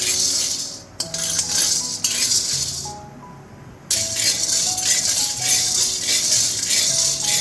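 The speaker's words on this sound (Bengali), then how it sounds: "এখন আমি সিমের বীজগুলো ভেজে নেব।" Bean seeds being dry-fried in a wok give a continuous dense rattle and sizzle, with a brief quieter stretch before the loud, steady rattling resumes.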